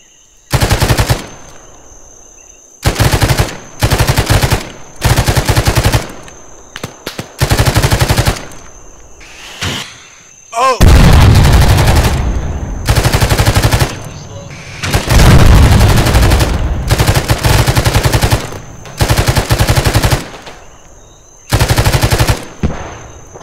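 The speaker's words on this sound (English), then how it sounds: "Friendly shooting above you to the south." Gunfire in the military game Arma 3 during a street fight: loud, close rapid bursts of automatic fire in repeated volleys with short gaps, with players talking in between.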